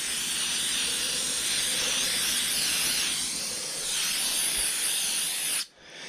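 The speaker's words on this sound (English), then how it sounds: "watch when I spray on the top here" A steady, loud hiss of cleaner sprayed from a spray bottle lasting several seconds, then cutting off abruptly near the end.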